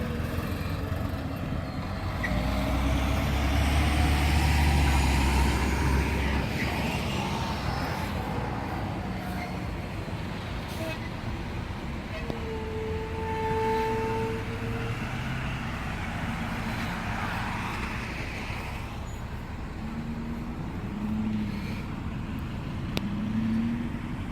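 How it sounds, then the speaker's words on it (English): Road traffic passes outdoors near a field survey site, a steady rumble of vehicles swelling and fading as cars and trucks go by at moderate distance, with wind-like background noise. "A lot of traffic coming now."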